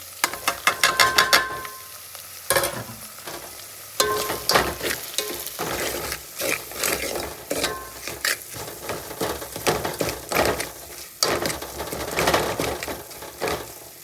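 Spices go into onions frying until red for a chicken dish, bringing a continuous sizzle broken by frequent sharp clinks and scrapes of a spoon stirring in the pan, close and busy throughout.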